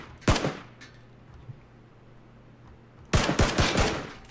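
Gunfire in PUBG: a couple of sharp shots near the start, a pause, then a rapid burst of several loud shots close together.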